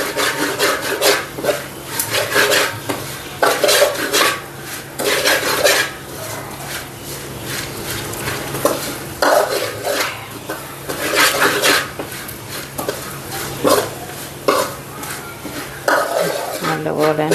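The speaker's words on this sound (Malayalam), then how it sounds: "മാറി വരുമ്പോൾ വരെ ഇളക്കി കൊടുക്കുക." A spoon scrapes and stirs beef curry masala around a pan, giving steady rhythmic rubbing and clinking strokes, close and fairly loud, with a soft sizzle underneath.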